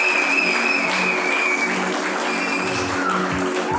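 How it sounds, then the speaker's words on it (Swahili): A church congregation applauds in a dense, steady wash of clapping that stays loud and even from start to finish, with no voices standing out. "Patie Yesu makofi mazuri na mwambie asante."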